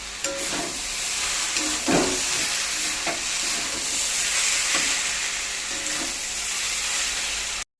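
Cabbage with soybean and garam masala being stirred in a hot pan, a steady close sizzle punctuated by several scraping stirs of the spatula, with no talking.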